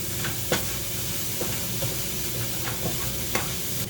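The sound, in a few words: pre-minced garlic sizzling in a pan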